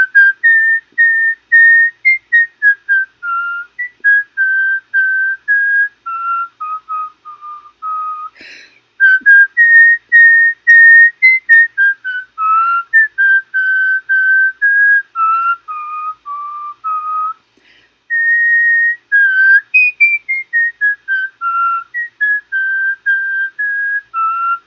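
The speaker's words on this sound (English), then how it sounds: "I'm just going to whistle it here for you." A person whistles a simple, bouncy melody alone, clear and close, with short rhythmic phrases and brief pauses between them.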